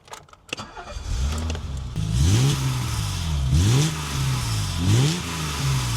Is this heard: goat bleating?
no